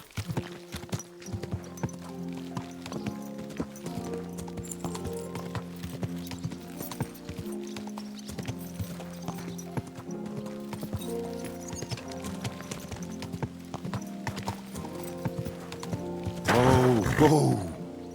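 Horse hooves clip-clop steadily in Kingdom Come Deliverance 2, a medieval video game, with an even walking rhythm over background music and a louder burst near the end.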